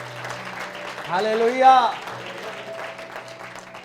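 A church congregation claps steadily during a worship service, a continuous dense patter of many hands while a voice calls out loudly over it midway.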